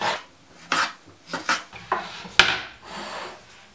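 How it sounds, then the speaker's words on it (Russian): A serrated bread-style knife saws thin slices from a tomato on a board for a seaweed and vegetable salad, giving several short scraping, rasping strokes with soft knocks, close and alone. "Для помидора я возьму другой нож, пилку, чтобы не мять его"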